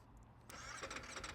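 Ducati Panigale V4 Superleggera motorcycle engine starting, a short crank followed by a sudden rough catch into a rising rumble, fairly faint.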